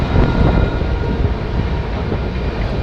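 The Digha–Visakhapatnam Express runs near Khurda Road, a loud, steady rumble and roar of the moving train heard from on board.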